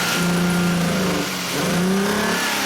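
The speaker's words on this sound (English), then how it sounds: "So now I'm going to increase the engine RPMs." A Hyundai Sonata engine, suspected of a crankshaft sensor fault and hesitation, rises in rpm as it is revved, a close, steady drone with wavering pitch that dips briefly midway before climbing again.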